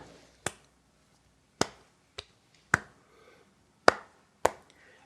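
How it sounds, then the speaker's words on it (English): Hands clap back a long rhythm pattern in a quiet classroom: six sharp, close claps spaced unevenly over a few seconds, each one crisp and dry with silence between. "would you please clap back to me a long walk pattern?"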